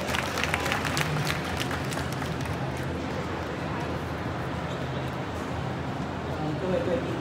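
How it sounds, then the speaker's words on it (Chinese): Audience applause at a forum on century-old brands and railway culture, a broad steady wash of clapping that holds throughout, with a few sharper claps early on. "我们掌声啊，再欢迎。"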